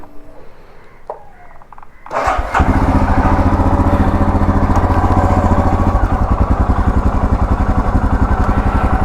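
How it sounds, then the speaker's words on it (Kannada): A motorcycle engine cold-starts after a quiet stretch, catching with a burst and settling into a loud, steady, rapidly pulsing idle close by, with no talking. "ಮತ್ತು ಬರೀ ನೋಡ್ರಿ ಕೋಲ್ಡ್ ಸ್ಟಾರ್ಟ್ ಮಾಡೋಣ"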